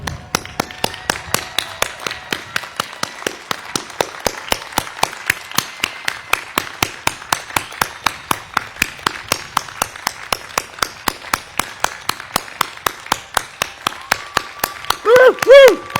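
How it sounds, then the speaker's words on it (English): Steady, evenly spaced hand claps from a graduation audience honoring the class of 21, a crisp regular rhythm sustained throughout, capped by a brief high whoop at the end. "Let's all stand up and give the class of 21 a round of"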